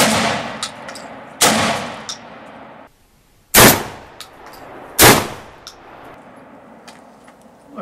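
A 1961 Browning A5 16-gauge semi-automatic shotgun fires low-cost shells outdoors: four loud, sharp reports spaced over several seconds, each followed by a short decaying echo and faint metallic clinks between shots.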